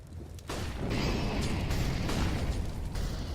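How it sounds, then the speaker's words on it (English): A flashbang grenade goes off in a Counter-Strike match at a 2019 Katowice Major, a loud sudden burst that swells into a dense, sustained roar lasting several seconds with no voices. "Oh, the flashbang underneath Reyes is going to do a lot of damage"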